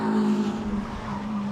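An MG racing car, the 92 car in an MG Trophy race at Donington Park, passes close by with a loud, strong engine drone that eases slightly as it goes through, no voices over it.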